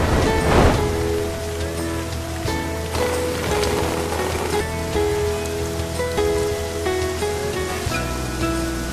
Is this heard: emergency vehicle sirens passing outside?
no